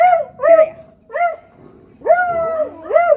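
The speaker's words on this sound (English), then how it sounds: "Is there a dog walking by?" A dog yelps and barks in four short, high-pitched bursts close by, with a whiny edge and brief pauses between them.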